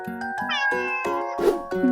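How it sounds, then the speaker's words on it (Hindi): A cat meows several times in close succession, each call clear and close, with a steady tonal hum beneath and no talking. "सी से होती है कैट यानी बिल्ली।"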